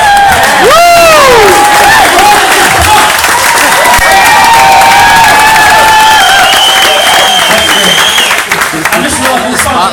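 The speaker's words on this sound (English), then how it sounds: "Let's give a big round of applause for Carrie." Wedding guests burst into loud applause and cheering for the bride, dense clapping mixed with whoops and shouted cheers, close and intense throughout with voices rising above the hands.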